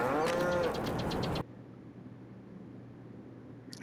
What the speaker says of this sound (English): See what the cows are doing.